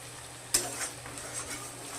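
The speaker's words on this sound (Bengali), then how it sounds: "আমি আর একটু ভাজা করে তারপরে নামিয়ে দিব" Katla fish oil patori frying in a pan while being stirred, a steady soft sizzle broken by a sharp utensil scrape near the start and light stirring scrapes after, with no talking.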